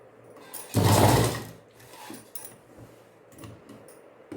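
A sewing machine stitches the neck of a chudidar, with one loud burst of running stitches up close, followed by quieter intermittent mechanical clicks and handling noises.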